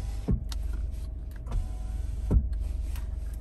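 Power window motor on a 2021 Jeep Wrangler Unlimited Rubicon whirring inside the cabin, with brief motor pulses and faint clicks as the window is held down, steady low vehicle hum underneath.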